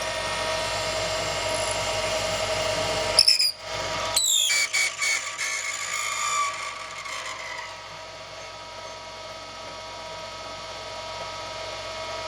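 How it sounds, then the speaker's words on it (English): A drill bores into the centre of an acrylic pen blank on a lathe, a steady high-pitched whine broken by a few seconds of rough grinding bursts, then a quieter continuous whir. "So now we're just going to run our drill piece straight into the centre of our"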